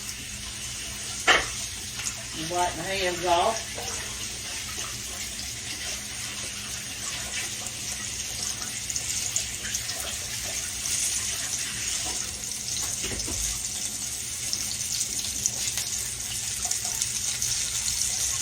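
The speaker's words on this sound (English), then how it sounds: "Let me run some water in these bowls so they'll be easy to wash after a while." Tap water runs into bowls in a home kitchen, a steady soft gush with clinks of dishes, as someone speaks briefly at the start.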